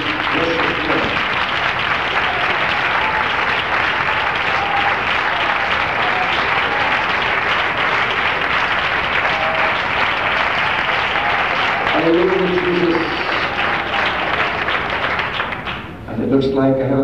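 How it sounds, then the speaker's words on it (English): A church congregation claps hands in worship, sustained loud applause filling the room throughout, with a few voices rising near the end. "Would you clap your hands for the Lord today?"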